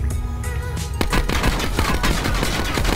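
Rapid gunfire in Black Ops 4 Blackout, loud bursts of shots crackling close in quick succession, with a denser automatic volley building after the first second and continuing to the end.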